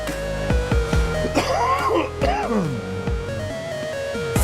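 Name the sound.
cough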